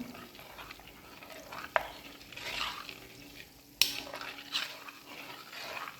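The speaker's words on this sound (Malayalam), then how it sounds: "കുറച്ചുകൂടി ഇളക്കി കൊടുക്കണം." A spoon stirs food around a heavy urali cooking pot just after the stove is switched off, producing soft scraping swishes with two sharp metallic clinks, no talking.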